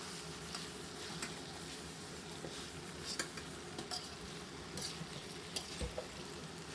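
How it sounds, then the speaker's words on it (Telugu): Tomato pasta with coriander is stirred in a frying pan, giving a soft, steady sizzle with faint scraping knocks of the spoon, quiet and close, with no talking. "వేయించుకుంటూ ఫైనల్గా కొంచెం కొత్తిమీర కూడా వేసుకొని ఒక్కసారి బాగా కలుపుకుందాము"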